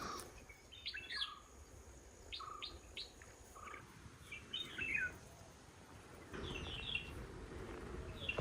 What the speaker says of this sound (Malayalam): ഇവിടെ നിന്നൊക്കെ ഒരുപാട് പക്ഷിയുടെ ശബ്ദം കേൾക്കാൻ പറ്റും